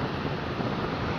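Wind blowing at the top of a tall tower above a large company housing block, a steady rushing roar buffeting the microphone, loud and unbroken, with no voices.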